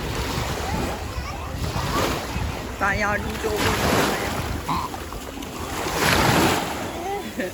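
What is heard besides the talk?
sea waves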